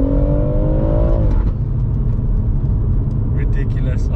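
A BMW M140i with a stage 2 tune revs loudly, its engine note rising and falling before settling into a steady roar, with people talking over it.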